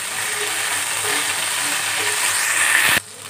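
Ginger garlic paste frying with asafoetida and cumin in hot oil for Punjabi palak chana masala, a steady dense sizzle running nearly throughout before dropping off sharply near the end.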